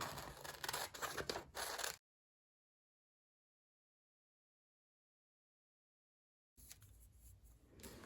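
Scissors cut a paper image out for an art-journal collage, with quick close snips and rustling at the start and end around a long silent gap.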